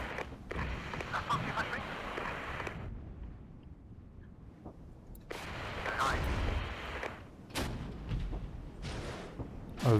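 Artillery fire in the real-time strategy video game Regiments, a dull rumbling barrage of distant booms and crackles rising and falling, with faint sharper impacts and some voices in the mix.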